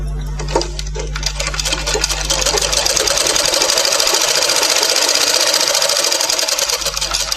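Sewing machine sewing a fitting seam on a blouse, running as a loud, steady, continuous whirring hum for several seconds, heard close with no speech.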